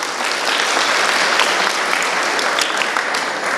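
An audience applauds loudly and steadily at a church catechism event, with the dense clapping running throughout.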